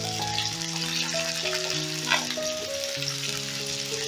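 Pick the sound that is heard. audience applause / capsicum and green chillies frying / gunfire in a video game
capsicum and green chillies frying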